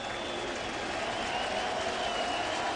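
Home crowd at a Cardinals baseball game applauding pitcher Adam Wainwright, a steady, distant wash of clapping and cheering that holds evenly across the stadium.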